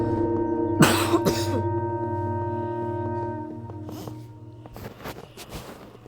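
A person with a cold coughs twice in quick succession close to the microphone, harsh and loud, followed by fainter throat noises over a steady electrical hum.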